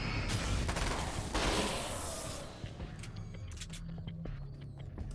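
An SMG fires a dense, rapid burst in the video game Alan Wake: American Nightmare. The loud rattle lasts a couple of seconds, then gives way to scattered sharper shots and quieter in-game noise.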